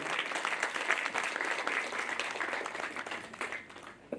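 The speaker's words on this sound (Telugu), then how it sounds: "and a big clap for them" Audience applause at a film teaser launch event, a dense, steady clapping from a crowd that holds for several seconds before thinning out near the end.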